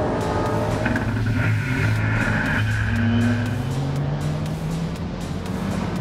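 A Ford Mustang Supercar race car rolls through the paddock at VIR, its engine droning loud and close with shifting pitch and brief tire chirps, and no talking.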